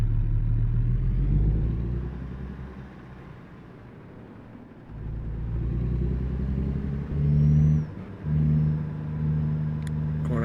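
Truck engine in American Truck Simulator, set in Arkansas, pulls away after being put in gear, a steady low rumble that swells and dips as it accelerates, with a brief shift near the end.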